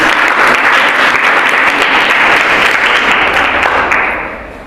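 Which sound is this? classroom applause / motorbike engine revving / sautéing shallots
classroom applause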